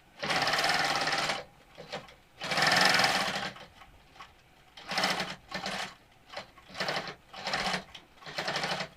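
A longarm quilting machine stitches an old quilt in bursts, its rapid mechanical whir starting and stopping repeatedly, close up with no voices.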